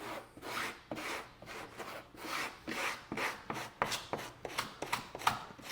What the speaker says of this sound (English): So you want to scrub this first at the edges